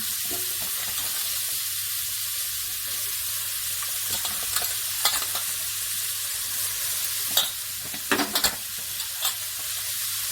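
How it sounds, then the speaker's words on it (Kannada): Cabbage and onions stir-fry in a pan for a quick Indian cabbage palya, with a continuous soft sizzle and occasional louder scrapes and knocks of a spatula stirring near the end. "ಕ್ಯಾಬೇಜನ್ನು ಸಹ ಅದಕ್ಕೆ ಆ್ಯಡ್ ಮಾಡ್ತೀನಿ."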